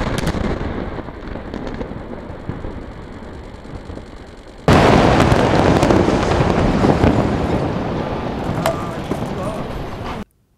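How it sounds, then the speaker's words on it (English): A loud explosion demolishes the inter-Korean liaison office building, a sudden massive blast cutting in after a low rumbling stretch and followed by sustained roaring debris noise for several seconds. "the explosion was shocking"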